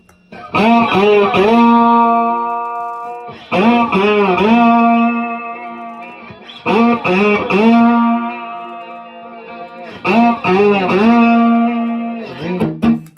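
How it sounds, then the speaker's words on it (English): Heavily distorted electric guitar with no delay effect, playing sustained chords in several phrases separated by short pauses, with a dry sound and no echo trails. "Without delays, and distortion sounds like this."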